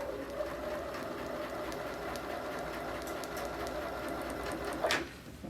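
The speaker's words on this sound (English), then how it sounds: "So I've sewn right down that line." Steady mechanical whir of a sewing machine running continuously while stitching a quilt seam, close and moderately quiet, ending in a brief louder burst near the end with no talking.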